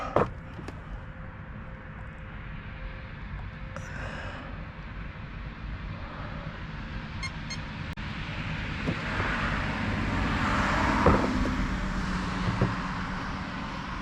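A stretched Rlaarlo AK-917 dual motor 4S RC car makes a speed run, a rising electric motor whine that builds from a distant pass to a louder close sweep near the end, with wind noise in the background.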